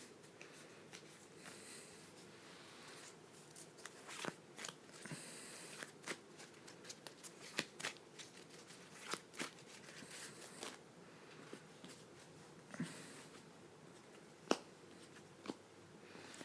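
Trading cards are shuffled and riffled in a quiet room, soft papery flicks and sharp snaps repeating irregularly for the whole stretch.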